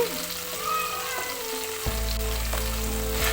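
Drumsticks, the vegetable, fry in hot oil in a pan for curry, giving a steady bright sizzle and crackle at close range, with a clatter of stirring and a louder thump midway as the sizzling carries on underneath.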